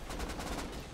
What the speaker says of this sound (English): I killed someone with rockets.